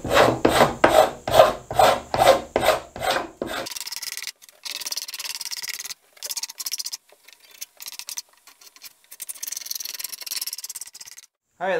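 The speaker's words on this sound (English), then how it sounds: "It's three-sided and it's nice just to lay flat and kind of scrape the glue off the pieces." A three-sided scraper drawn across wooden construction lumber to strip off glue, first as about seven rhythmic, loud rasping strokes, then as quicker, lighter scraping in short irregular bursts.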